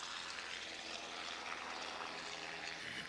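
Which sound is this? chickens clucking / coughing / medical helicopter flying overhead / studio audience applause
medical helicopter flying overhead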